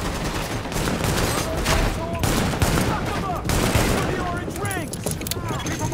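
Sustained gunfire from the video game Tom Clancy's The Division, a near-continuous fusillade of rapid shots with heavy automatic bursts, loud and dense throughout, with scattered sharper cracks and ricochet-like whines toward the end.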